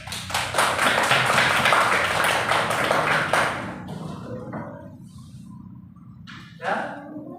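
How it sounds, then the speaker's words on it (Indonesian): A classroom of students claps together in a loud, fast burst that stops abruptly after about three and a half seconds, followed by quiet room sound and a few faint voices. "tepuk tangan"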